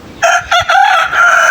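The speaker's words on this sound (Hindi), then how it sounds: "देसी मुर्गा माशाल्लाह" A desi rooster crows close and loud, a strained multi-part cock-a-doodle-doo call that rises, breaks and stretches into a long wavering finish, standing alone without any talk.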